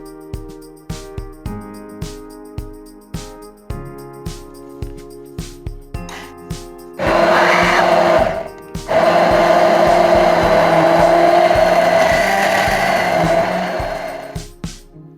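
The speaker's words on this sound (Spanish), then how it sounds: "Para esto yo voy a utilizar esta batidora de mano que tengo." Rhythmic knocking taps repeat for several seconds, then a hand blender whirs loudly through a mixture with water for Peruvian pachamanca a la olla, pauses briefly, and runs on in a steady high buzz.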